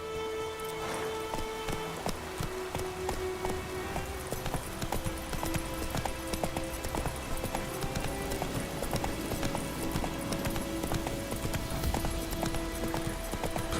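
Roach the horse gallops through The Witcher 3, hooves clip-clopping in a quick, even rhythm that runs without pause, close and clear over a faint game ambience.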